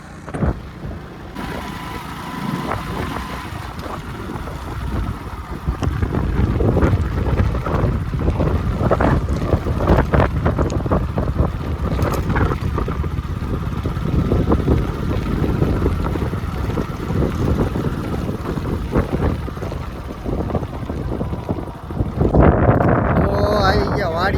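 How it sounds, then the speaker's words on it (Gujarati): Strong wind buffets the microphone outdoors in a gusty, continuous roar that swells and dips, with people talking underneath it. "પવન આજ બહુ અઘરો છે"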